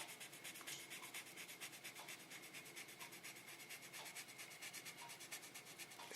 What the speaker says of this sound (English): with the same sandpaper, I go to the other direction very carefully